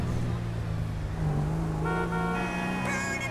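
A vintage car drives past outside in GTA 5, a steady engine drone with a rising pitch sweep, while someone talks over it throughout.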